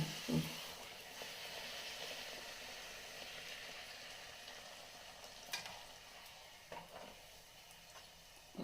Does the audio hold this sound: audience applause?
no